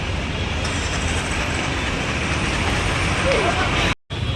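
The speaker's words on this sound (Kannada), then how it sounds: "ಇದು ಮೆಟ್ರೋ ರೀ." A Bengaluru metro train rumbles past in a steady, broad roar amid city traffic, close and fairly loud for several seconds before cutting off abruptly near the end.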